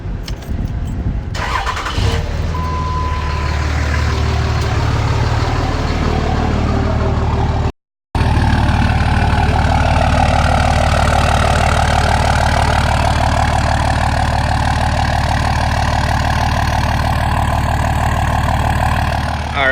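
A 2005 Cummins diesel pickup with a 5-inch turbo-back straight pipe exhaust and the AC running: the engine cranks and fires, then settles into a loud, deep, steady idle rumble heard close up, with one brief dropout partway through.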